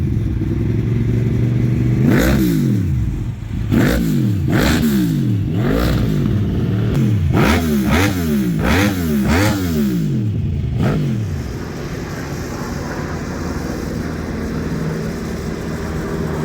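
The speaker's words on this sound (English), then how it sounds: "He's mixing his two-stroke a little too rich there." A two-stroke dirt bike engine, mixed a little too rich, blips through a burst of sharp repeated revs that rise and fall quickly, then settles back to a steady idle over constant nearby background noise.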